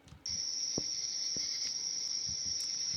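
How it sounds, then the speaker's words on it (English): Crickets chirp in a steady, high, unbroken trill outdoors at night under a stargazing sky, fairly quiet and constant, with a few faint soft clicks and taps scattered beneath. "I can't do anything about the crickets in the background"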